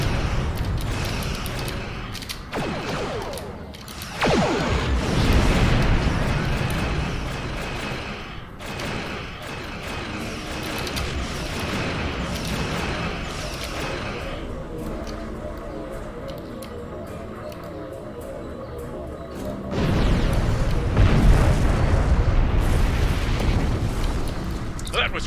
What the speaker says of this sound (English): That was quite an explosion.